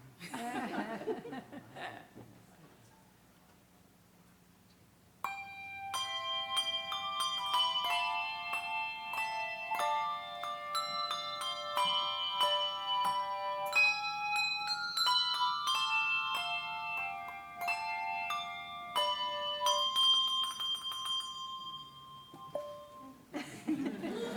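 Handbell choir ringing "We Wish You a Merry Christmas" at a December concert: clear, bright overlapping bell tones in a steady melody after a brief stretch of murmuring voices and audience noise.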